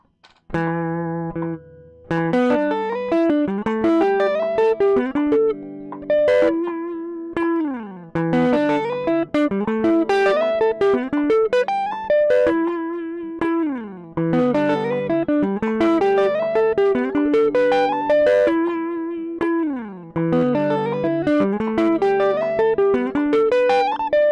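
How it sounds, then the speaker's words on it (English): Distorted electric guitar plays a sweep picking exercise: rapid, repeating arpeggio runs that sweep up and down in a steady, looping pattern, loud and continuous with no voices. "We're working on sweep picking exercise numero doso."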